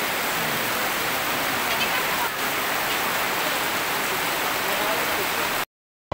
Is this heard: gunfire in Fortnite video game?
no